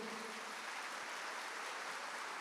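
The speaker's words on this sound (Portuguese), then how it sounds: "pode aplaudir Jesus" A church congregation applauds during a Mass homily, a dense, even wash of clapping that holds steady throughout without pauses.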